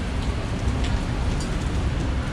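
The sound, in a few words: rain on a street in Macau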